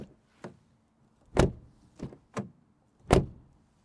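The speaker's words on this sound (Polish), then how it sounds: "posłuchamy, czy drzwi kulturalnie się zamykają" A JAC J7 Plus car door shuts with a solid thump, followed by a few lighter clicks and latch knocks, each one short and separated by brief quiet.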